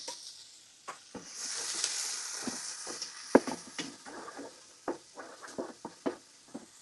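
Onions and tomatoes with ginger, garlic and green chilli sauté in coconut oil for a crab roast, a soft steady sizzle broken by scattered clicks and scrapes of stirring, close and fairly quiet.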